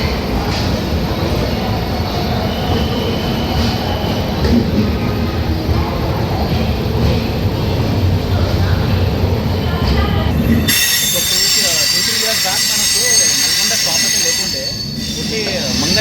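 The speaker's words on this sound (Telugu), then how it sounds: "సో ఆన్ టైం మన ట్రైన్ అయితే బయలుదేరుతుంది విజయవాడ రైల్వే స్టేషన్ నుండి" The Lingampally Intercity Express departs Vijayawada railway station with loud rolling wheel noise and squealing rails. The rumble shifts in tone partway through and keeps running steadily, with no voices.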